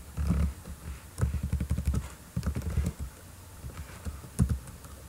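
Keys clack on a computer keyboard in short, uneven bursts of taps separated by brief pauses, close and fairly quiet, with no voices.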